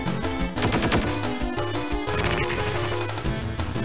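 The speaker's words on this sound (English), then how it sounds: "let's go for a submachine gun then" Submachine gun fire in the Medabots video game, a dense rapid rattle of shots running continuously at steady volume.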